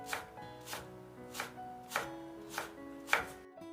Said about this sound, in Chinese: 然后再切成胡萝卜小丁。